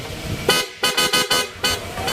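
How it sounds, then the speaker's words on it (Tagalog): A loud PIAA car horn on a Honda honks in a series of short blasts, the first and last held slightly longer, up close over a running engine. "loud horn, PIA original"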